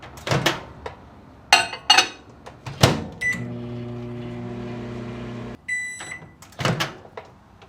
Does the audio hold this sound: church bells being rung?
no